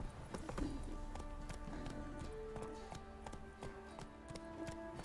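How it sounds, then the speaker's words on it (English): Hooves of the horse Roach clopping across a bridge in The Witcher 3: Wild Hunt, a rapid galloping rhythm of hollow taps over a faint game music bed, with a brief whinny-like sound near the start. "You can't race on this bridge with Roach."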